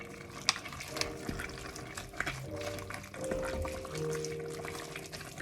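Water pours into a soup pot of cabbage stock being cooked on a stovetop, a steady splashing trickle with light clinks, fairly quiet and continuous.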